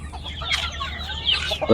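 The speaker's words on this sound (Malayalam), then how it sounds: "ഇവിടെ പുതിയ ഐറ്റം കോഴികളൊക്കെ വന്നിട്ടുണ്ട്" Desi country hens cluck close by at a poultry shop selling hens and ducks, a few short, uneven bursts of clucking across a quiet room-tone background, with no speech.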